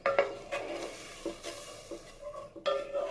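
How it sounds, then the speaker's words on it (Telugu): Fish curry (chapala pulusu) mixture is stirred in a pan, with intermittent scraping and clinking strokes alongside a soft sizzle, close and moderately quiet, no voices. "అలా మొత్తం కలియబెట్టేసుకొని"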